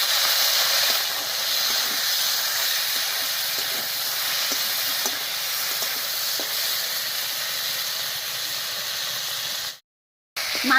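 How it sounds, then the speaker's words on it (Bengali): Prawns fry in hot mustard oil in a kadai, making a loud, constant close-up hiss with light crackles throughout. The sound cuts out briefly near the end, and no one talks. "তেল গরম হয়ে গেছে। এবারে চিংড়ি মাছটা দিয়ে দিচ্ছি।"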